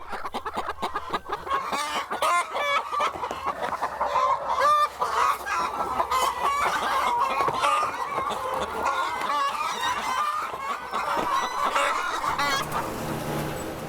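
Hens cluck and squawk constantly on an egg farm housing twenty thousand chickens, a dense, busy chorus of many birds at moderate loudness with no voices.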